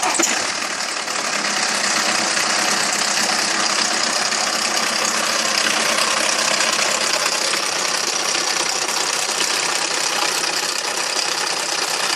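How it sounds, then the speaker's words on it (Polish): A BMW 318d with the N47 diesel engine idles in a workshop, a dense, steady mechanical clatter and hum running evenly at close range with no voices. "Przed rozpoczęciem prac uruchomimy silnik, żebyście słuchali, posłuchali jak on pracuje."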